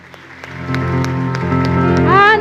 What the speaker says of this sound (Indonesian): Berikan dong tepuk tangan.